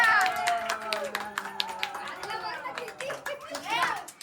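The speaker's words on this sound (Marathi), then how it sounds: "सगळ्यात मोठे टाळ्या. टाळ्या टाळ्या." A family at a home birthday claps in light, quick bursts, the claps partly buried under excited children's voices and adult chatter nearby.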